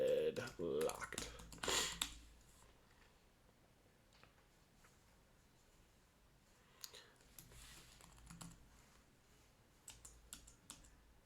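Fingers type on a computer keyboard in quick bursts of close, clicky keystrokes, busy at first, then sparse taps separated by quiet pauses, with someone speaking intermittently.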